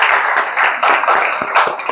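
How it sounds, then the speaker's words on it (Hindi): An audience claps at a community service club gathering, brisk overlapping hand claps coming in uneven bursts, fairly loud and close. "एक बार जोरदार तालियां होनी चाहिए इनके लिए।"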